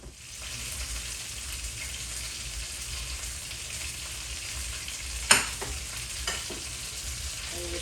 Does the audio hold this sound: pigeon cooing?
no